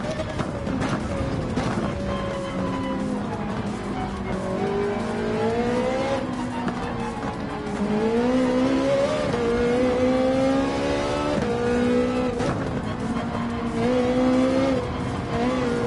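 A race car engine in the video game Gran Turismo 7 whines steadily, its pitch rising and falling through gear changes over continuous tire noise, with no voices.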